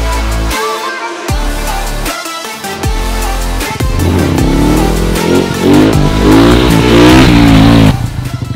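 A motorcycle engine with the throttle pumped during wheelie practice, loud and close, with repeated revs that rise and fall in bursts, then a sustained climbing roar.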